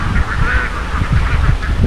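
Ducks quack in a loud, close, continuous flock chorus, overlapping nasal calls with no pauses, heard at a rural farm in Lopez, Quezon.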